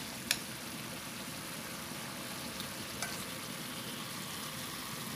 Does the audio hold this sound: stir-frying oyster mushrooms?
yes